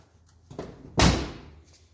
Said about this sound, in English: moment of truth, the door will close.